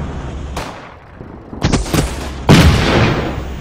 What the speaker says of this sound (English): Come on, shoot that dude.